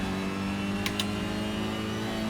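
A Honda engine at full throttle in a racing sim video game, a steady, loud, sustained drone with no shifts or gaps.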